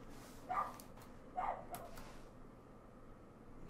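A dog barks twice, faint and somewhat distant, with a short pause between the barks and a quieter trailing sound after, over a low steady background hum.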